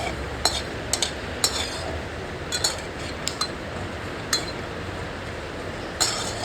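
Peanuts being dry-roasted in a pot over low heat and stirred with a spatula, with sporadic sharp clinks of metal against the pot over a low hissy background, close and intermittent, no talking.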